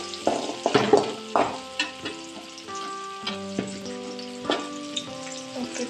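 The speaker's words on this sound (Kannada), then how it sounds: "ಇದನ್ನು ಉಳ್ಳಾಗಡ್ಡಿ ಮತ್ತು ಟೊಮೆಟೊ ಹಾಕಬೇಕು. ಸ್ವಲ್ಪ ಫ್ರೈ ಆಗಬೇಕದು" Onion and tomato frying in an oil-filled pan for beans palya, a steady close sizzle with brief louder crackles near the start and occasional stirring scrapes, alone without voices.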